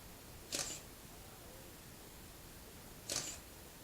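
A camera shutter fired by a remote clicks twice, several seconds apart, each a short crisp snap heard close in a quiet room.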